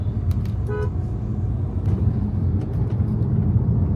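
Steady road traffic rumbles nearby, a low continuous engine drone with a brief car horn toot early on.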